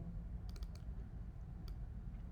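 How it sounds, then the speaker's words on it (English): A computer mouse clicks softly and close during drawing work, a quick double click followed by a few more light clicks against a quiet room hum. "Add a node by double clicking"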